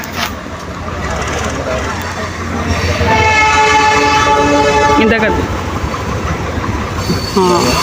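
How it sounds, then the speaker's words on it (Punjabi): A train rolls past close by with rumbling wheels and a long sustained horn, voices talking briefly over the noise. "ਟ੍ਰੇਨ ਆ ਗਈ"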